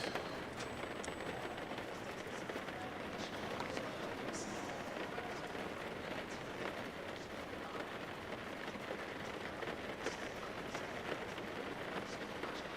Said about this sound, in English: Quite relaxing with that rain noise